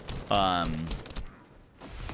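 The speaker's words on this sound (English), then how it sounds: "So now we've got a Greg's Reversed Fate, which when we fire, these explosions that it does" In the game The First Descendant, the Greg's Reversed Fate gun fires a brief burst of rapid shots with chained explosions, loud and close, with someone talking over it.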